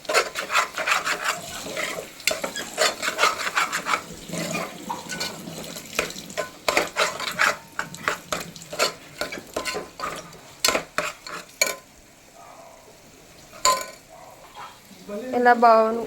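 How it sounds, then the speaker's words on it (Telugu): Ginger garlic paste is stirred and fried in a pan for vegetable biryani, giving a run of close, uneven scraping and stirring strokes over a soft sizzle, with a brief pause and a few scrapes near the end. "కొంచెం వేగాక అల్లం వెల్లుల్లి పేస్ట్ వేస్తున్నాను ఫ్రెండ్స్"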